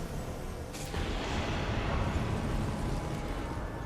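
Dull rumbling explosions in Elden Ring Nightreign, a muffled burst followed by a continuing low roar, fairly quiet and washed out.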